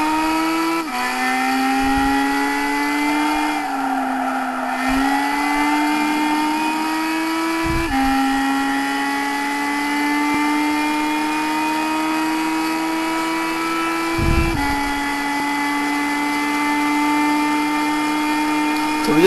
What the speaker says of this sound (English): now I'm just entering the track to show you what these cars are like around the circuit.